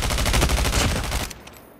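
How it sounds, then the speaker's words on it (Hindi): Rapid bursts of automatic gunfire come from behind the player in a mobile shooter game, loud and dense for about a second before cutting off to quieter game ambience. "तो यहाँ पे मैं जा ही रहा होता हूँ तो पीछे से फायरिंग आती है"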